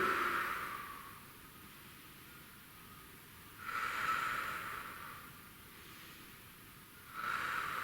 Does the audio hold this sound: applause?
no